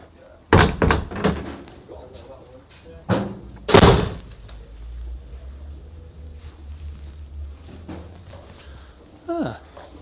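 Heavy thuds and slams from a heritage railway carriage door at the Swindon and Cricklade Heritage Railway, several sharp knocks and one loud slam amid a rattling, rumbling carriage interior, with people talking nearby.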